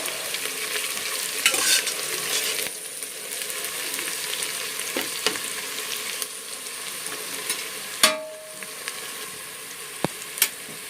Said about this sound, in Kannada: ನೋಡಿ ಇವಾಗ ಎಷ್ಟು ಚೆನ್ನಾಗಿ ಗೋಲ್ಡನ್ ಕಲರ್ ಫ್ರೈ ಆಗಿದೆ ಈ ರೀತಿ ಈರುಳ್ಳಿನ ಚೆನ್ನಾಗಿ ಫ್ರೈ ಮಾಡ್ಕೋಬೇಕು